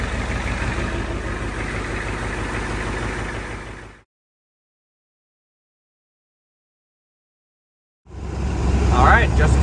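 A Ford F250 pickup truck's engine runs with a steady, loud, low drone during a road trip. The sound drops out to silence midway, then resumes.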